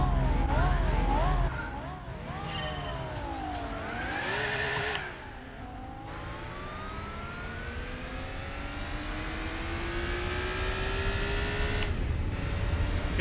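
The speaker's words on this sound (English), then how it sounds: "This car actually has quite cool sound. Cannot deny that. Man, it really has that M raspiness." BMW M3 GTR racing engine in the video game Gran Turismo 4, revving up and down through gear changes with a rising, raspy whine that climbs steadily through long pulls, fairly quiet.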